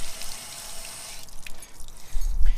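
Pumps in a vintage car's swamp cooler spray and dribble water, a steady close hiss of splashing and trickling with a few brief drips and a low thump near the end.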